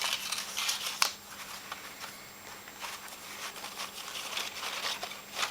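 Paper or card pieces of a sliceform globe being folded over each other, giving soft crinkling and rustling handling noises, close and quiet, with one sharper snap near the start.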